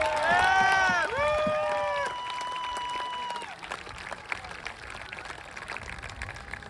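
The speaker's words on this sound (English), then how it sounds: "Let's give his mom, Mrs. Hallock, a round of applause." A school assembly crowd claps and cheers for a coach's mother, loud whoops and shrill tones at the start fading into lighter, scattered clapping.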